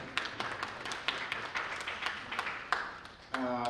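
Light applause from guests at a scholarship fundraising gala, a sparse, irregular patter of claps heard faint and somewhat distant, ending with a brief voice at the close.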